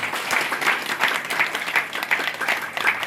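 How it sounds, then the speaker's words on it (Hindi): Vigorous clapping fills a hall at a Hindu community gathering in Mathura, loud and continuous with a slight pulsing rhythm, many hands close by and no voices rising above it. "तो ऐसे महापुरुषों के लिए ताली जोर से बजनी चाहिए सदन में"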